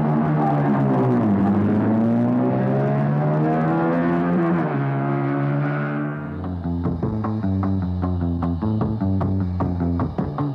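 A BMW racing sidecar outfit, ridden by Jelinek and Stahl, roars loudly and continuously. Its engine note climbs and dips in pitch, then turns into a rougher, pulsing drone.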